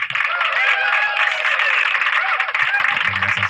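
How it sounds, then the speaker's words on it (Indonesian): An audience in a heated debate hall cheers and claps, a loud continuous mix of shouting voices and applause lasting throughout, with a voice briefly emerging near the end. "Tepuk tangan buat Tuhan."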